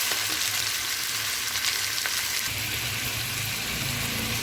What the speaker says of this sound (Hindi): अब हम इसमें ऐड करेंगे लहसुन अदरक का पेस्ट और इसको अच्छे तरीके से मिक्स कर लेंगे। इसको भी हम 2 से 3 मिनट तक भूनेंगे।